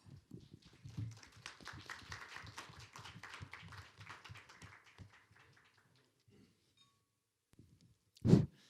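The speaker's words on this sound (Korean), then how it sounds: "박수로 모시겠습니다" Applause from a conference audience welcoming panel speakers to an AI safety session, a scattered spread of claps that thins out and fades after about five seconds, followed by quiet and a single sharp knock near the end.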